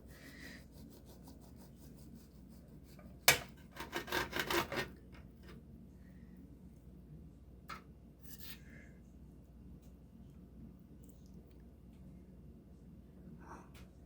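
A knife cuts through a soft coconut roll, giving a short burst of rasping slicing strokes up close, with a few faint scrapes afterward in an otherwise quiet room.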